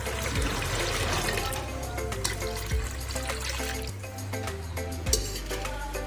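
Water poured from a glass into a pot of soaked black-eyed peas, a continuous splashing and gurgling stream, close and fairly faint, with no speech.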